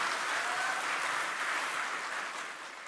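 An audience at a formal speech event in Aceh breaks into dense, steady applause that holds at full strength for several seconds before easing slightly at the end.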